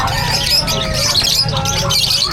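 Many caged birds squawk and chirp in a dense, continuous chorus at the Bocaue pet bird market, loud and close, with market chatter mixed underneath.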